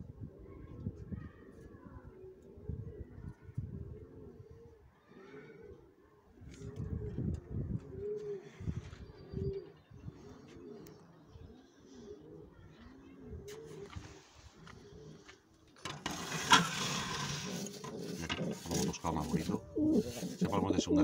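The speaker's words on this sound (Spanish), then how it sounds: "el pichón es muy bonito, un azul plomes" Sport pigeons, including a slate-blue squab, coo in low, throaty repeated phrases throughout, close and fairly steady, with a burst of brighter, noisier rustling in the final few seconds.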